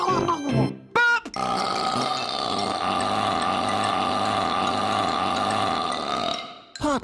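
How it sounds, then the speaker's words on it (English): A long, loud, drawn-out burp rumbles close for several seconds, with short vocal sounds just before it and a brief one as it ends. "Burp!"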